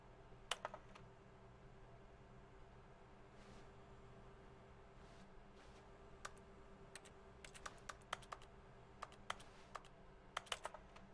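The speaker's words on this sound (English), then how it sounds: "If I hit E, it makes a little keyboard noise, but there's no keyboard." Keyboard typing sound effect in the video game The Stanley Parable: Ultra Deluxe, sparse quiet clicks coming singly and in short bursts over a faint steady hum, with no talking.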